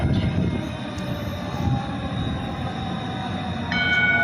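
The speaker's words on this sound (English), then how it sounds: "And we got the theater district train coming." A light rail train rolls into a city theater district station, a steady near rumble of wheels and motor with a faint high squeal toward the end and no talking.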